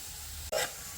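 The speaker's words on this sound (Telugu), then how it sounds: "ఆనియన్స్ ఫ్రై అయ్యాక మనం తరిగి పెట్టుకున్న కాకరకాయ వేసి బాగా మిక్స్ చేసుకోండి." Chopped bitter gourd drops into a pan of frying onions and sets off a sudden burst of hissing sizzle. The sizzle then settles back to a soft, steady crackle, with no voices.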